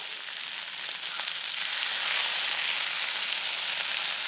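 Fish frying in coconut oil in a pan for a special masala fish fry, a steady close hiss and crackle that swells slightly midway and continues without talk.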